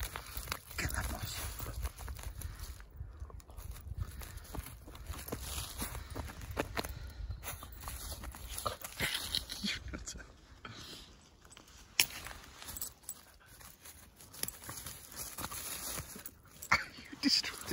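Bedlington whippets tear and scuffle at moss outdoors, with rustling, scratching and soft thumps of paws at close range, broken by brief quiet gaps.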